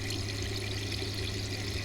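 Cake batter flavored seltzer fizzing right beside a close microphone, a steady hissing, crackling rush of bubbles that sounds like rushing water, constant and fairly loud throughout with no talking.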